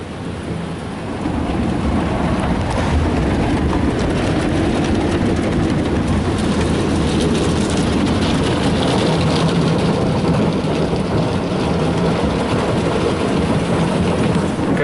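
A Ryko Softgloss Maxx 5 automatic car wash at a gas station scrubs a car with a constant loud roar of spraying water and rumbling brushes, heard from inside the vehicle.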